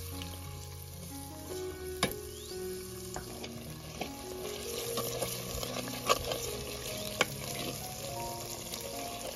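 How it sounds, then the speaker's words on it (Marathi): Stuffed eggplant masala with coriander being sautéed in oil in a village kitchen, giving a steady mid-level sizzle with soft stirring scrapes and a few sharp utensil clinks. "मस्त तेल सुटूपर्यंत हे सगळं परतून घ्यायचं."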